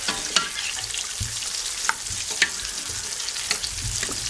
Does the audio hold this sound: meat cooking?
yes